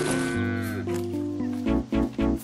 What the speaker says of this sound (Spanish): De verdad espero que haya sido una vaca.